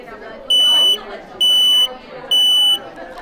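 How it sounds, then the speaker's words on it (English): A smoke detector sounds three loud, sharp high-pitched beeps in an even rhythm, each about half a second long, with quiet background murmur between them. "That's the sound of a smoke detector."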